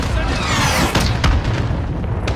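A missile strikes its target with a loud, sustained, rumbling boom in the Modern Warfare video game, its heavy low roar filling the whole moment with sharp crackling bursts inside it.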